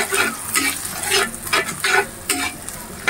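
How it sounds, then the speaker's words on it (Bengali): Spice masala with ginger-garlic paste, chili powder, turmeric, cumin and salt fries in a pan, its close, steady sizzle broken by repeated rhythmic scrapes of stirring. "মশলাটা খুব ভালো করে কষিয়ে নিব"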